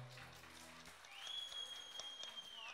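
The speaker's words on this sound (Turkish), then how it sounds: "Bir alkış Ahmet Agam'a." A crowd at a gathering breaks into applause, a dense patter of clapping with a sustained high whistle-like tone running over it.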